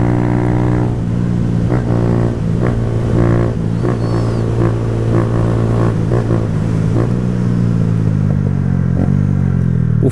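A Honda CG 125 Fan motorcycle on a ride, its single-cylinder engine loud and close, droning steadily with rhythmic shifts in pitch as the throttle rises and eases off, no voices over it.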